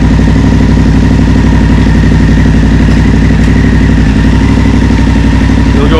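A BMW F750GS parallel-twin motorcycle idles steadily up close, a loud, even engine rumble with a fine mechanical clatter running throughout, no voices.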